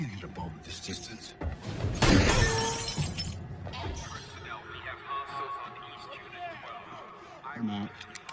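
Glass shattering from a gunshot in an action film scene, a loud crash and spray of breaking glass followed by tinkling debris, with people talking around it.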